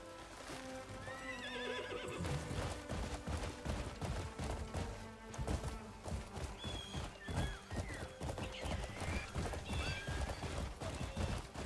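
Rhythmic clip-clop of horse hooves galloping, loud and continuous, with a horse neighing over the hoofbeats in the video game Crimson Desert.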